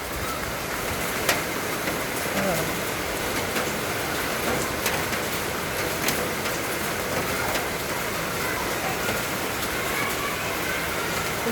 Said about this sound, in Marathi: असा मुसळधार पाऊस चालू आहे